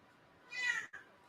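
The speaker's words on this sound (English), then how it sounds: "Cat." A cat lets out a single faint meow indoors, a brief rising-and-falling cry, heard alone with no speech.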